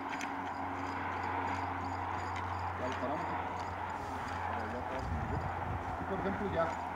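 Horse hooves clip-clopping on the ground while a wild young horse is being saddled, scattered faint footfalls under a low steady hum, with people talking nearby.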